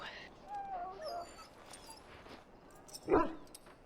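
Injured dog in the Dragon Age video game whining and whimpering, high thin yelps and whines scattered across a few seconds, with a short louder bark-like yip near the end, mixed with game voices talking.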